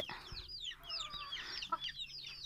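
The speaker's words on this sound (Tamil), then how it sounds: "இதில் பார்த்திங்கன்னா கிரிராஜா கோழி வாங்கி விட்ருக்குறோம்" Giriraja chickens on a small farm cluck and chirp in repeated short calls, fairly close, with several birds overlapping throughout and no talk.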